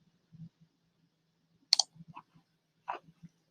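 A few sparse computer mouse clicks, sharp and close, including a quick double click amid faint desk sounds in an otherwise quiet room.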